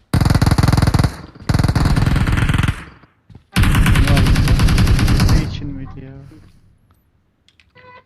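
Loud bursts of automatic gunfire in the battle royale game PUBG, two long rapid strings followed by a shorter burst, close and dense, then fading into softer game sounds and brief voice.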